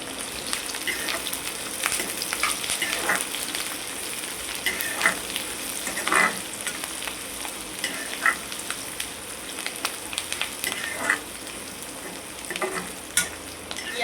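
Chicken frying in a pan with green chillies and curry leaves, steady close sizzling and crackling with intermittent stirring scrapes and pops throughout.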